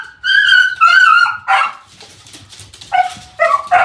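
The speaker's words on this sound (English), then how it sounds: "Yeah, noisy dogs." Several beagles bark and yip loudly up close in quick bursts, with a brief whimpering note between them.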